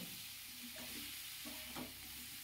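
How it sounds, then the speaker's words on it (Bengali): Pumpkin and potato fry in oil with a faint, soft sizzle, broken by a few quiet scrapes as the pieces are stirred. "ভালো করে কিন্তু তেলেতে কুমড়ো আর আলুটাকে ভালো করে কষতে হবে"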